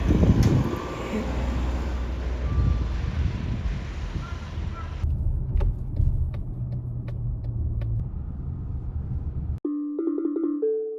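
Steady low rumble of a car's interior road noise while driving through Itabashi toward the Nakajuku shopping street in Tokyo; continuous and fairly loud, ending abruptly in quieter chime-like tones near the end.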